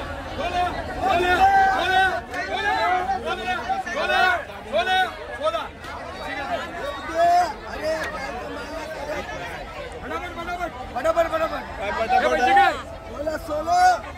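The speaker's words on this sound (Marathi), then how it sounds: "फुल गर्दी इकडे." Loud, continuous chatter of a thronging crowd at Mumbai's Bhaucha Dhakka wholesale fish market, many close voices talking over each other in uneven bursts that swell and dip across the whole stretch.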